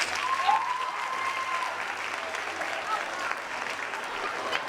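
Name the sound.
audience applause at a summit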